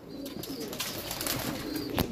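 Pigeons kept by a fancier coo softly nearby, low soft calls amid chirps and light ambient noise.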